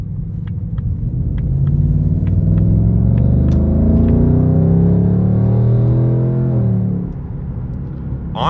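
A 2026 Ford Mustang Dark Horse in sport mode rumbles loudly from inside the cabin while driving, its deep engine note climbing steadily under load for several seconds before easing off, with faint ticking clicks above.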